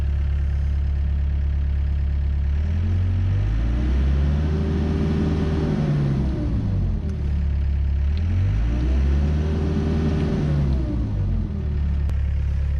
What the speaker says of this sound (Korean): 기존에는 시동도 잘 안 걸리는데 얘도 하기도 힘들고 이렇게 잘 되니까 좋네요 시동 너무 잘 걸립니다